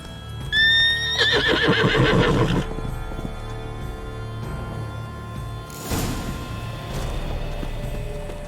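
A horse neighs loudly and close in one long whinny in The Witcher 3 video game, followed by soft hoof clip-clops and a quieter rustling burst later on.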